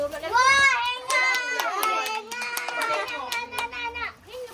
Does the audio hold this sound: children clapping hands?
yes